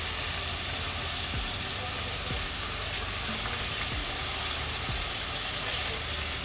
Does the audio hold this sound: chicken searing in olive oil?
yes